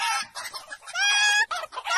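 A hen clucks and squawks in a short series of loud, close, agitated calls with a rising, drawn-out cackle in the middle.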